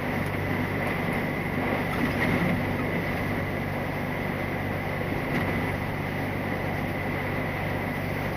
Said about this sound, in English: Wind's picked up again, I've noticed, quite substantially.